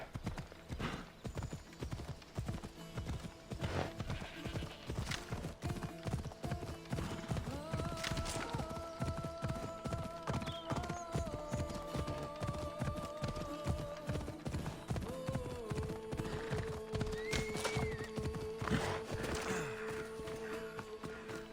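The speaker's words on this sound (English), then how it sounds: "That stupid horse finally caught up to me." Rapid hoofbeats clip-clop steadily throughout in the video game Assassin's Creed Odyssey, fairly close, while a horse's whinny and faint tonal game sounds rise over the rhythm.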